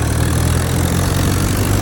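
A Mahindra 475 DI Sarpanch tractor engine idles close by with a steady, low, throbbing diesel rumble, even and unbroken throughout.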